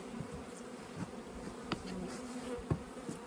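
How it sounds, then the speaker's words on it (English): Bees in a nest give off a quiet, continuous low hum, with a few brief louder buzzes from individual bees passing close. "We're starting to see some young bees in the nest"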